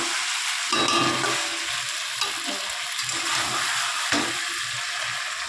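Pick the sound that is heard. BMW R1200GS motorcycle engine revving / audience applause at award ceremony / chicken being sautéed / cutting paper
chicken being sautéed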